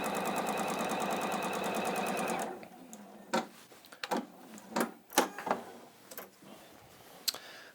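A sewing machine stitches a quilt seam in rapid, steady runs for a couple of seconds, then stops, followed by scattered clicks and knocks of handling the fabric and machine nearby.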